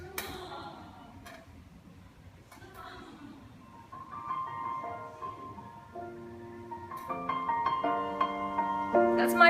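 Music plays from a small waterproof portable speaker, starting with faint clicks and tones, then a melody that builds and grows louder, thin and slightly tinny.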